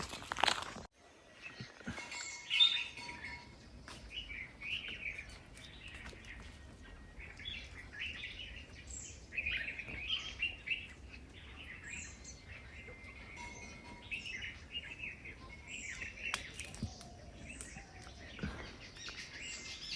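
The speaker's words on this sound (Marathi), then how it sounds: "पक्ष्यांचा किलबिलट एवढा आहे ना की दुपारची वेळ आहे" At midday in Konkan countryside woods, several birds chirp and tweet in short, scattered bursts against a quiet background, with occasional soft rustles and crunches nearby.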